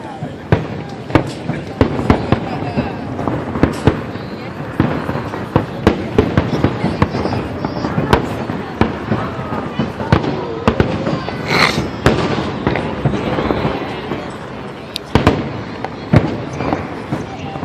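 Fireworks burst and crackle repeatedly over the National Mall in Washington, DC, on the Fourth of July, loud sharp bangs at irregular intervals, with people talking and murmuring throughout.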